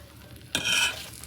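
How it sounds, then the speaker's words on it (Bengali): Oil pitha rice cakes fry in hot oil as a sudden, short burst of bright sizzling flares up and fades within a second. "আমি দুটো করে তেলের পিঠে ভাজা করছি"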